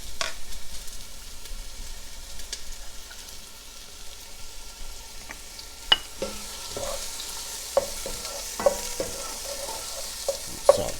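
Onions sautéing in extra virgin olive oil in a pot over medium-high heat, a soft steady sizzle with occasional sharp clicks and taps of stirring, close and fairly quiet.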